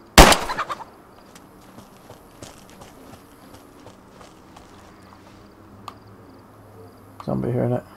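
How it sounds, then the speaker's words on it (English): A single handgun shot in the DayZ video game, fired at a chicken, cracks out loud and sharp near the start. Quiet shuffling follows, then a louder burst of noise at the end. "Now we should be able to shoot the chicken."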